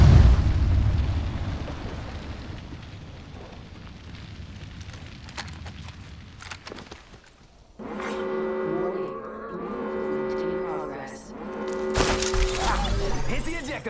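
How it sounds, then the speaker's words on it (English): A thermite grenade in Apex Legends bursts into a roaring, crackling fire, a loud sustained rush following a quieter stretch of game noise and voice. "Thermite grenade!"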